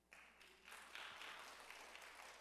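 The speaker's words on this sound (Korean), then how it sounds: "박수 한 번만 해주세요" A church congregation during a sermon breaks into brief applause, a soft rise of scattered clapping that fills in and holds at a modest, fairly distant level.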